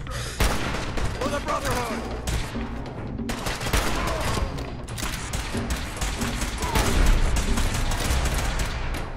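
Gunfire in the Fallout 4 video game, rapid bursts of automatic shots and booming blasts cutting in and out over about nine seconds, loud and close, with a voice speaking briefly amid the shooting.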